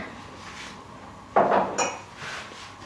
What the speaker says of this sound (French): J'ai fait la vaisselle. Maintenant, je range.